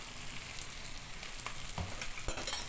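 Onions sizzling and browning in a frying pan, a steady broadband crackle with a couple of sharper pops and stirring scrapes, close and continuous with no talking.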